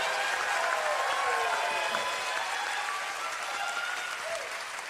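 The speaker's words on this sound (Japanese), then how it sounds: "大きな拍手" A concert crowd at the final show of a band's 40th Anniversary Live Tour gives big sustained applause, a loud, even wash of clapping filling the hall for about five seconds with no one speaking.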